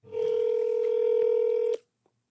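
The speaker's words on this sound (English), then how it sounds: "Let's see if my manager answers the phone." A single steady telephone tone sounds for about one and a half seconds while placing a call to a manager, clean and moderately loud, then cuts off into near silence.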